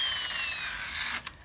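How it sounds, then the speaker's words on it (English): A power drill bores along the grain of a piece of wood being distressed for an aged look, a steady close whirring grind that stops abruptly near the end, with no talk. "the drill"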